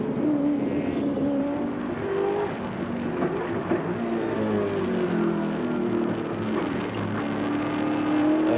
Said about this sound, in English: The engine certainly sounds strong here at Oran Park.